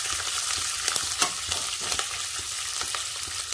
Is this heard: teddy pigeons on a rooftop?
no